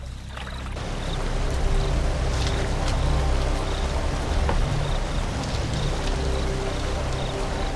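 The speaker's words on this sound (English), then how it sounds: "The herd will spend hours splashing, playing, and feeling good to be alive" A herd of large herbivores splashes about in water, producing a steady, dense wash of sloshing and spraying that stays loud and continuous throughout, with no voices.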